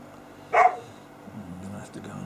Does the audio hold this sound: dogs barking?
yes